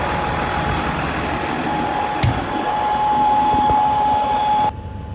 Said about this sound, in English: this is the Vacuvator Grain Vac 5000. Super high speed vacuum. PTO driven.